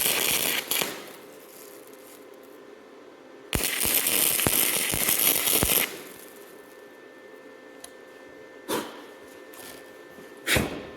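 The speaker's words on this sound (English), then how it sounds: "Now we're going to go ahead and weld up this edge and the back edge" Arc welding along the edges of a layered Damascus billet cut from a saw blade, with loud crackling, spitting bursts, the longest in the middle, and a few short sharp pops before and after.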